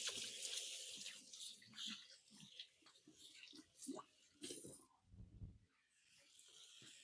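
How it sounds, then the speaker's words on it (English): Kitchen tap water runs while hands are washed mid-way through cooking fajitas, a steady close hiss and splash that dips and swells, with a short quieter break near the end before the rush resumes. "I'm going to give my hands a quick wash."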